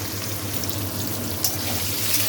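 Vegetables fry in a pan over medium heat for potol posto, giving a steady, close hiss and sizzle with faint crackles and no voices.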